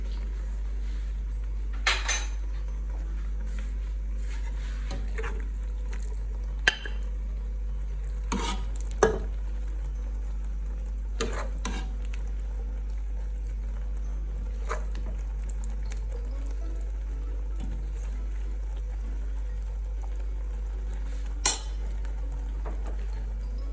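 Red kidney bean (lobia) curry with cinnamon sticks and bay leaves being stirred and served out of a pot: sparse, isolated clinks and scrapes of a spoon against metal over a quiet, steady background hum.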